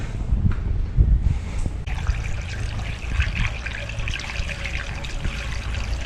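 New coolant glugging and trickling as it is poured into a Ford XR6T cooling system, a steady close liquid pour with bubbly gurgles, louder at the start and settling into a continuous stream.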